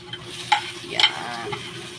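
Onion sautéing in a pan, a soft low sizzle under a few sharp scraping and clinking strokes of a utensil stirring, close by, with no speech.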